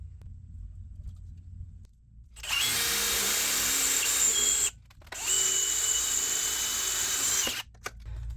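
Two sustained bursts of a power drill boring through a steel frame on a small homemade overland camper, loud and close, separated by a short pause, with no talking.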